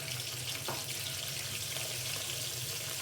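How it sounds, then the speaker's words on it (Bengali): Water from rinsing a spice bowl pours into a hot pan of frying ginger, chili, cumin, onion and garlic paste, making a steady, dense hiss and splash throughout with no talk. "দিয়ে এবার ওই মশলার বাটি ধোয়া জলটা দিয়ে দিচ্ছি।"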